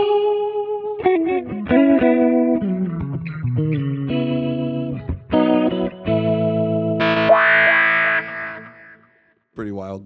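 A guitar runs through a large direct pedalboard rig, producing loud distorted, chorused and effect-warped notes and swells, with shifting tones and a sweeping wash near the end before cutting out.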